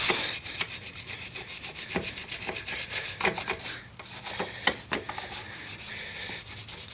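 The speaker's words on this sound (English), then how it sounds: "Scrub away. Honestly, trying to scratch up the paint a little bit so that the new layer sticks." A scrubbing pad works over painted metal in a BMW E46 330Ci ZHP engine bay to scuff the paint, giving steady, close, rasping back-and-forth strokes with the occasional harder scrape.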